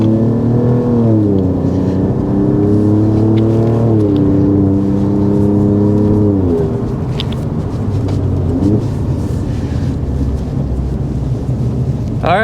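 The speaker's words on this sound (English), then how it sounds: "We actually did get to drive the Giulia Quadrifoglio out on a racetrack" A 2024 Alfa Romeo Giulia Quadrifoglio, the 505-horsepower high-performance model, driven hard on a racetrack, with a loud, close engine roar that rises through gears in repeated revving sweeps and then settles into a sustained heavy drone.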